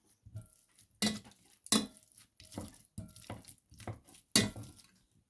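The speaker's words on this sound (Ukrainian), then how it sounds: "І добре виминаю товкочкою" A hand masher presses dumpling filling in a bowl, giving a series of irregular thuds and scrapes with sharp clacks, close up and fairly quiet between strokes.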